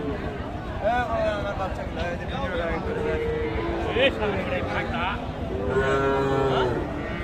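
Cattle and young bull calves mooing at a busy rural cattle market, several long drawn-out lows from different animals, some near and some farther off, over crowd babble and people talking.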